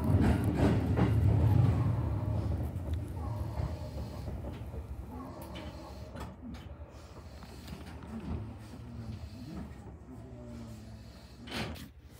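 A Sagami Line 205 series train rumbles along the rails, loud at first and easing off into a steadier, quieter running noise with faint clunks of the carriage.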